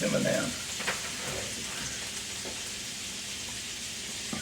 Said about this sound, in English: we're going to saute these vegetables